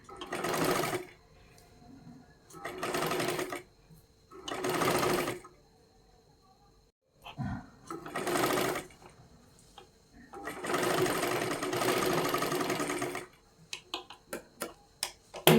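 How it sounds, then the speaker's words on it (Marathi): A sewing machine stitches a kori blouse seam slowly in several separate bursts of steady whirring, each a second or two long, with brief pauses between and a run of soft ticks near the end. "एकदम सावकाशमध्ये शिलाई मारत घ्यायची आहे आपल्याला"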